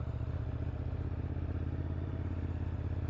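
A 2018 Ducati Monster 821 engine hums steadily and closely with a pulsing rhythm while riding, holding an even mid-low drone without a clear rev change throughout.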